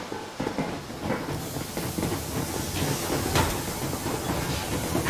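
A train rolls ahead in the winter setting of Metro Exodus, with a steady rumbling clatter and hissing steam, loud and continuous, with a sharper hiss burst partway through.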